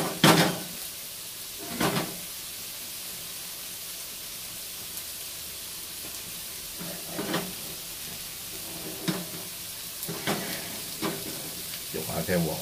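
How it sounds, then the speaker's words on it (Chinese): Fresh ginger slices fry quietly in a hot wok with a faint, steady sizzle, broken every few seconds by louder clanks and scrapes of a spatula stirring against the metal. "俾啲生姜繼續去煎，煎到幾面啦都金黃。"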